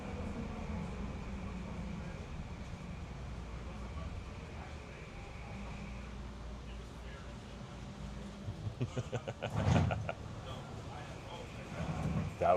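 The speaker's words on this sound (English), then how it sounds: "the train tracks go through the building" A metro train runs on rail tracks through an elevated station building, a steady low rumble and hum throughout, with rhythmic clacking of wheels over rail joints building toward the end; voices talk faintly over it.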